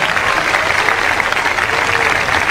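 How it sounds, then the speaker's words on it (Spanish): A church congregation at an evangelical service applauds, producing dense, steady clapping that fills the room at full volume, with crowd noise mixed in. "Denle ese aplauso bien grande a Jesucristo."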